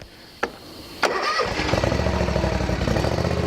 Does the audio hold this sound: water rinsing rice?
no